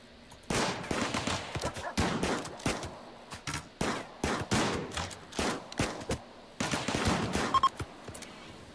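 Rapid bursts of gunfire from the video game RimWorld, several loud volleys and clustered shots spread across the clip with short gaps between them, heard alone without talking.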